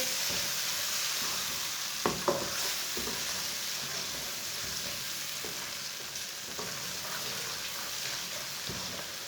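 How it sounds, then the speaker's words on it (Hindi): Chopped tomato and green chillies cooking in a pan for aloo palak curry, a continuous soft sizzle with occasional stirring clicks and taps, faint and steady with no talk. "टमाटर और सब्ज़ मिर्च को 2 मिनट तक पका लेंगे।"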